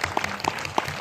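Applause from the audience at a film festival talk in Bucheon, a brief patter of scattered claps in the hall with no voices over it.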